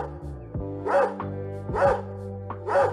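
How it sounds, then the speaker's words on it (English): A dog bark sound effect from the PC game Stephen King's F13 plays three times in a row, evenly spaced, over a steady droning electronic tone. "play the sound of a dog barking every time you click on something"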